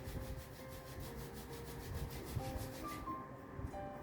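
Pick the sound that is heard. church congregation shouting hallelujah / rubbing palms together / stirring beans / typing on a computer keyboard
rubbing palms together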